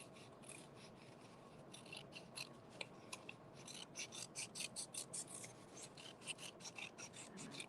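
Scissors snipping through a fabric scrap to trim it into a snake shape for a weaving craft, with soft rubbing at first and then a steady series of close, quiet cuts.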